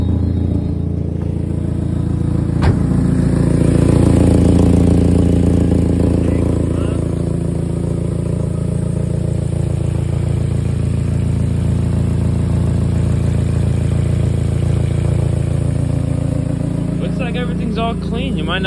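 A Mazda Miata 1.8 engine with an exhaust leak idles steadily outdoors, a continuous mid-pitched hum with a faint ticking, under a person talking.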